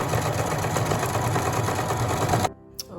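A sewing machine stitches buttonholes in a pillow cover, producing a rapid, steady whirring rattle close by for about two and a half seconds before it stops abruptly, leaving near silence with a faint click.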